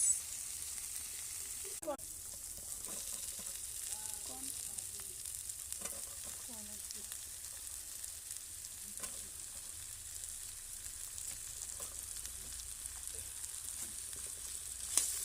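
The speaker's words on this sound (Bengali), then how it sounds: "এখন মশলা কষাইতেছি।" Spice masala frying with large prawns in a pan, a steady soft sizzle running throughout with occasional faint spatula scrapes and stirring clicks, fairly quiet and continuous.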